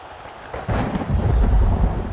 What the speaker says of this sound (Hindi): जोर से आई है बारिश और कवर्स ग्राउंड पे